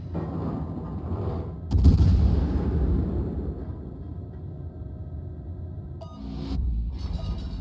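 A warship fires high-explosive shells in the naval video game World of Warships, a heavy booming report followed by a long rumbling tail, with a second sharper blast near the end over a steady low engine-like drone.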